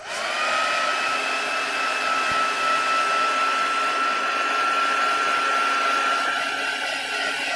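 A craft heat tool blows hot air to dry paint on a junk journal, a loud, steady whirring hiss with a high whine that starts abruptly and runs unbroken.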